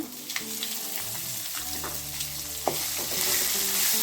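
Onions frying with urad and chana dal in a tempering for a tender jackfruit fry, a steady close sizzle with stirring scrapes and a few sharp clinks, growing slightly louder toward the end, no talk.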